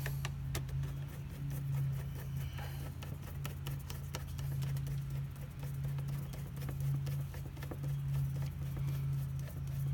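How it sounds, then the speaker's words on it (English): A screwdriver tightens a hose clamp on the sound tube of an ND Mazda Miata, giving a steady run of small close clicks and ticks over a constant low hum. "I just tighten it up with my screwdriver."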